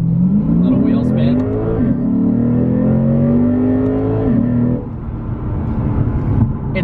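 A 2016 Lexus RC F accelerates hard from a launch with a brief wheel spin, its engine note climbing loud and close through the gears, with a shift near the end.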